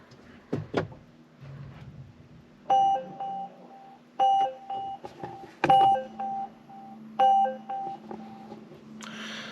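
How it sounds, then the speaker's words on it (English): A repeating electronic Volvo seatbelt warning chime rings in spaced bursts of several tones, clear and close inside the car, with a few soft clunks before it starts. "This is the "Hey dumbass, put your seatbelt on" warning noise."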